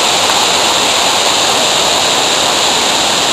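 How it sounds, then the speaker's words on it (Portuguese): A canyon waterfall in the Garganta do Silveirão roars loud and unbroken, a dense wash of falling water with no other sound breaking through. "Essa cachoeira aqui pertence a outro vértice da Garganta do Verão."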